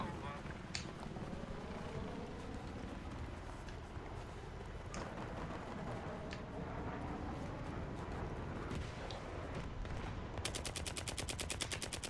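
Scattered gunshots and bursts of automatic fire ring out through a dense, noisy Battlefield 3 soundscape, with rapid repeated firing near the end.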